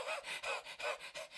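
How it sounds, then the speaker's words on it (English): A puppy pants close by in quick, rhythmic breaths, about five bursts in a little over a second, fairly loud and with no talk over it. "Panted Mucky Pup."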